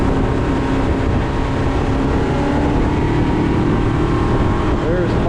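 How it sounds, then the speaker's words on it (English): A 2021 Stabicraft 1550 boat's outboard motor holds a steady, loud drone at cruising speed, with continuous wind and water rush and voices talking over it. "Turn that motor up."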